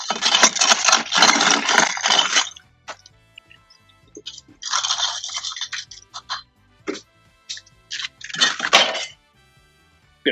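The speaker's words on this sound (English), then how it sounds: "Time to ice it up. Give it a shake." A cocktail tin full of ice shaken hard behind a bar gives loud, close bursts of rattling, clinking ice, three vigorous shaking spells separated by quiet pauses and a few lone clinks, with no talking.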